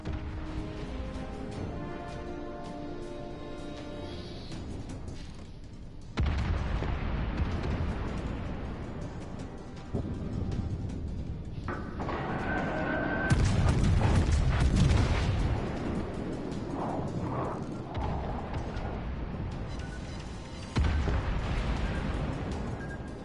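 Warship cannon fire and explosions in World of Warships Legends with a King George V battleship, heavy booms and crashing blasts arriving in waves over a continuous rumbling battle bed, loud and close with no talking.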